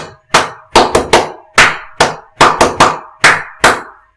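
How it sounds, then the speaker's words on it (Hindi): Sharp, close hand claps in a quick uneven pattern of single and grouped claps, about a dozen over four seconds, loud and alone, demonstrating another way of clapping in the style of Nazi rally applause. "इस तरह भी बजाया जा सकता है ताली।"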